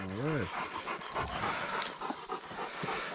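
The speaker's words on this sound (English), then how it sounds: "at least the dogs are getting a chew" Hunting dogs chew on a freshly killed wild boar, with a whine at the start followed by panting, wet snuffling and gnawing noises at close range, as people talk nearby.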